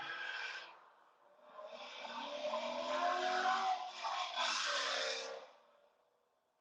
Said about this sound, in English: That exhaust is hitting.